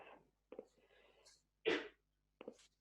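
A single short sneeze comes through a video call, fairly faint and thin. Quiet, whispery background noise surrounds it, with a few soft bursts before and after.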